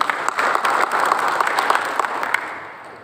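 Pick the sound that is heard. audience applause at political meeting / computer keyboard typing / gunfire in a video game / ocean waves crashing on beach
audience applause at political meeting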